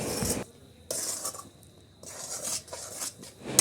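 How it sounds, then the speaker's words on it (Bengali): A spoon scrapes and clinks against a pan in short strokes, stirring a peanut laddu mixture over medium heat, with a soft sizzle underneath, close and moderately quiet. "খুব ভালোভাবে সময় নিয়ে নাড়াচাড়া করে নেব"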